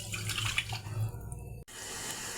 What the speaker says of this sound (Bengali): এর 1 বাটি জল দিয়ে দেব।